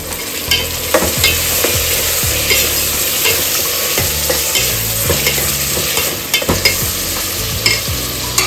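Tomatoes stirred into hot oil in a pan for capsicum rice, with a loud, steady sizzle and frying crackle throughout and repeated scraping knocks of a spoon, no talking.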